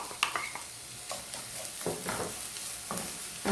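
Pounded ginger, garlic and chili paste sizzles in a pan with a bright, steady hiss, broken by several short scraping bursts as a spatula stirs it, close by.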